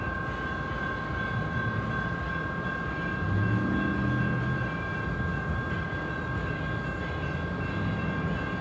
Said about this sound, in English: when the train roars through